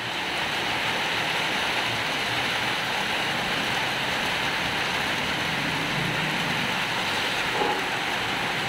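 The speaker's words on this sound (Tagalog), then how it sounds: "Kaya medyo humina na yung ulan." Heavy rain from typhoon Enteng, a loud, steady, dense roar of rainfall pouring down without pause, close and continuous with no voices.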